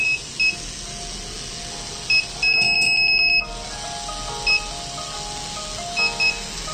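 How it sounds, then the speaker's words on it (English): An Arduino Nano buzzer on a pothole and bump detection robot vehicle emits short, high electronic beeps in irregular pairs, with one longer sustained tone, over steady background hum and no talking. "bumps only beeps and LED indication till the bump goes away"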